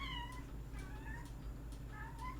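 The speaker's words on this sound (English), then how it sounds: "I don't know if you heard my cat." A house cat meows indoors, three drawn-out, rising cries spaced about a second apart, faint and fairly distant over a low steady background hum.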